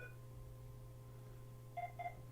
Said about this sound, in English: Dialing a phone.